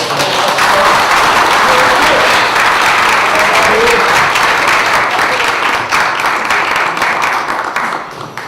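Loud, sustained audience applause at a political policy meeting in Changwon, a thick, even roar of many clapping hands close by, tapering slightly toward the end.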